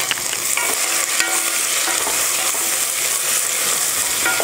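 Small shallots and garlic, both finely chopped, sizzle steadily in hot oil as a base for okra tamarind curry, with dense frying crackle and occasional stirring scrapes throughout, close and fairly loud with no voices.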